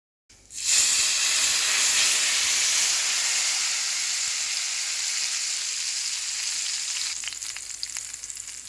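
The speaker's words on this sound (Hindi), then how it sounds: "अब हम कढ़ी पे तड़का लगाएंगे" A loud, sudden sizzle bursts out as hot spiced oil tempering is poured onto kadhi curry, then settles into a steady, fading hiss of frying.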